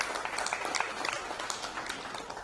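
An audience at the Indian Oil 2023 SRPL review summit applauds, giving a dense, steady wash of many hands clapping that holds evenly for a couple of seconds with no one speaking over it.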